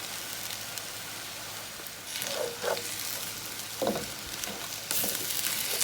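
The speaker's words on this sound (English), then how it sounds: "We're going to stir our shrimp around and get them cooked" Shrimp stir-fry in a pan for pad thai, giving a continuous soft sizzle that swells in a few short bursts as they are stirred around, growing louder near the end.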